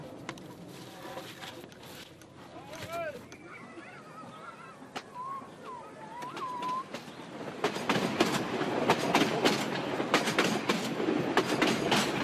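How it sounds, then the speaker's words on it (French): A train runs on old rails in Madagascar, its steady rumble and clatter growing louder and denser toward the end, with faint birdlike honks and whistles in the first half and no talk. "Le train s'achemine vers la première gare de son parcours."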